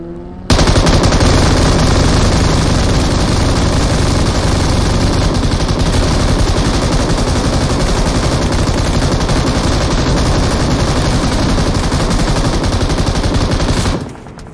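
Long, sustained automatic fire from an M249 machine gun in a video game, loud and close, rattling nonstop for nearly fourteen seconds before ending abruptly.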